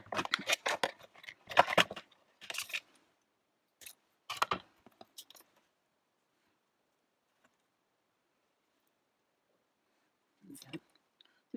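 Scissors snipping through card while making a parrot card, a run of close, crisp cuts and clicks in the first few seconds, then near silence with one last faint snip.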